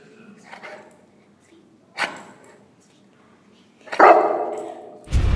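An excited dog just out of a travel kennel gives scattered barks and yips with whimpers between, ending in a loud close bark; the bursts are short and irregular, with quiet gaps.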